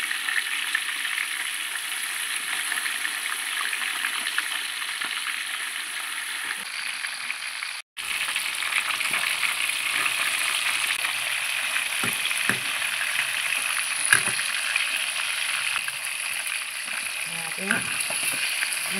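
Steady, loud sizzling of siakap fish, coated with asam keping, frying in hot oil, with occasional pops and crackles, continuous apart from a brief cut midway.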